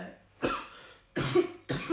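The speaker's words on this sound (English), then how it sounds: "there's dust in that, so it's making me cough" Three separate coughs, close and fairly loud, spaced apart by brief quiet pauses.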